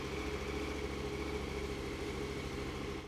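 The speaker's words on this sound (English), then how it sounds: "Now let's put the oil fill cap back on and start the engine." KTM 1290 Adventure R motorcycle engine idling after an oil change, a steady low rhythmic rumble held close and even throughout, with no talking over it.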